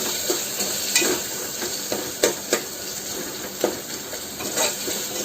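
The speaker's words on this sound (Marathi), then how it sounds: "त्याच्यानंतर कांदे टाकून देणार आहे, कांदे टाकून द्यायचे। त्याला पण खालतं वरतं करून घ्यायचे।" Onions sizzle in hot oil for a spiced pulao, with a steady frying hiss broken by sharp, irregular scrapes and knocks of a spoon stirring them in the pan, close and fairly loud.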